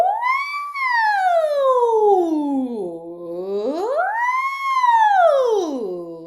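A voice imitates a siren, gliding smoothly up high and sweeping down low, then rising and falling again in one continuous wail.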